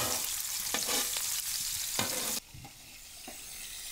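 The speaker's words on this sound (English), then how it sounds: "The sizzling of the shrimp." Shrimp sizzle steadily in a hot pan, a loud continuous crackle with occasional stirring scrapes and a brief dip midway.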